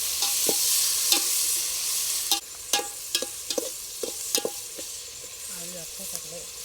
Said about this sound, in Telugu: మిగతా ఉల్లిపాయను కూడా వేసుకొని ఈ ఉల్లిపాయ బాగా ఎర్రగా అయ్యే వరకు వేయించాలి